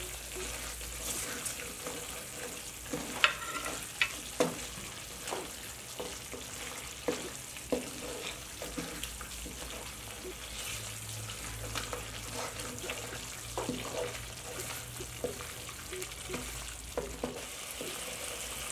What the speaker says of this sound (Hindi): इन सब स्पाइसेस को अब हम गोश्त को भूनते हुए डाल देंगे और अच्छे से मिक्स कर लेंगे